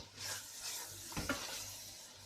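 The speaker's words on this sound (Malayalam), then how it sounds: "അപ്പോൾ കുറച്ച് പുതിനയില ഇതിനകത്തേക്ക് ചേർത്ത് കൊടുക്കാം. ഒന്ന് വാടട്ടെ, ഒന്ന് ഇളക്കി കൊടുക്കാം." Mint leaves being stirred into sizzling chicken biryani masala in a pot, a soft, fairly distant frying hiss with a brief scrape of stirring midway.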